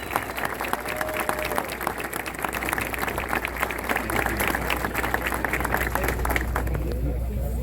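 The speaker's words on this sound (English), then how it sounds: "Let's give them a round of applause." A large crowd applauds at an opening ceremony for the Fury 325 roller coaster, with steady dense clapping and cheering that holds throughout, close and loud, over a low background hum.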